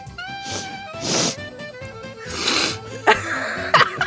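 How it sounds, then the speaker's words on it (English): People with colds sniffle and snort in a few noisy bursts, breathy nasal sounds near the microphone with short gaps between them. "It's just us sniffing."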